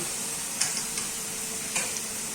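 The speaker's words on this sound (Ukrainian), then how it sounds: "нехай обсмажується цибулька" Onions sizzle steadily in a hot pan, a constant crackling hiss broken by a few light clinks of stirring.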